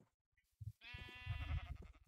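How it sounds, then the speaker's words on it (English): A sheep in Minecraft gives a single short bleat, a clear nasal cry after a couple of soft clicks, close and alone. "God damn, these are all just sheep."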